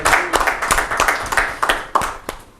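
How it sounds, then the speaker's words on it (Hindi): Audience clapping at a Rajasthan Parishad stage event, scattered sharp hand claps in an uneven burst close by, loud at first and thinning toward the end. "एक बार जोरदार तालियां हो जाएगी।"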